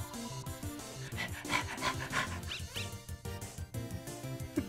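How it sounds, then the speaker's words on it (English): Lesser Dog, a dog character in the video game Undertale, gives excited, rapid panting yips over background game music, close and fairly quiet. "Lesser Dog is barking excitedly"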